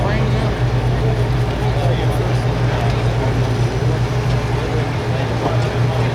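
A 1200 lb modified lawn tractor at a 2016 truck and tractor pull roars with a loud, steady engine drone that holds level throughout, with a strong low hum and an announcer talking over it.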